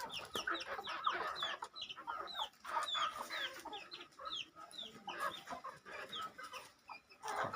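Young pullets, native hens not yet laying, clucking in a steady stream of soft repeated calls that overlap from several birds, fairly close but quiet, with no talk.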